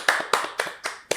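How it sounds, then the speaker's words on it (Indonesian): Crisp hand claps from a small studio group on a local talk show ring out in a quick, even rhythm, about five sharp claps in just over a second with no talk over them. "Tepuk tangan dulu dong untuk 2 senior dan abang kita semua"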